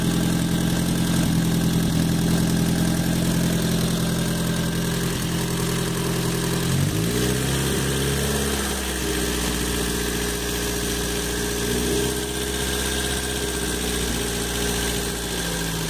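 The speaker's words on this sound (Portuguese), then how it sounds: "restringir a quantidade de combustível para que o motor trabalhe somente com hidrogênio" An engine fed by a simple homemade hydrogen generator, running on a mix of hydrogen and a little fuel, idles steadily and loudly; its pitch dips and wavers midway as the fuel supply is throttled, then settles into an even drone.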